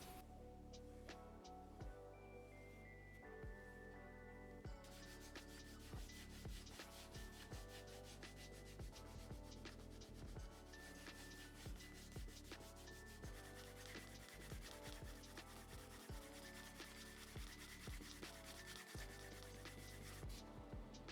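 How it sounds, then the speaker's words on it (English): Lightly sanding the burnished edge of a leather wallet, a steady scratchy rubbing that repeats in short strokes, up close, with no talk. "I'm just going to lightly sand the part that I just burnished and repeat the process again just to get that extra glossy finish on the edge."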